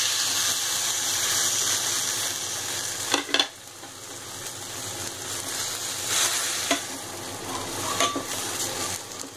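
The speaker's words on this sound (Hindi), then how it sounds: "अब मैं इनमें टमाटर ऐड कर दूंगी।" Onions and tomatoes fry and sizzle in a pan for paneer bhurji, with a steady hiss, spatula stirring and a few sharp clinks against the pan, all close and without talk.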